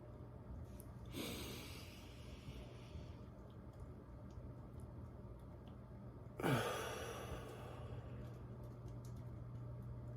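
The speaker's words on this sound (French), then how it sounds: "nous allons prendre quelques grandes respirations afin de laisser entrer le soleil en nous." Two deep breaths drawn slowly during a guided meditation, each a soft, airy rush, the second stronger with a sighing exhale, heard close and alone over a quiet background hum.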